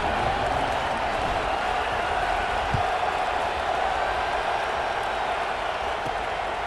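Stadium crowd noise from the College Football 26 video game, a steady, dense murmur of a large crowd holding at an even level throughout after a score, with no clear cheering bursts.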